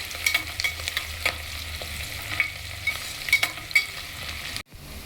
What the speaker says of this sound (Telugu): ఉల్లిపాయ పచ్చిమిరపకాయ కొద్దిగా లైట్గా వేగాలండి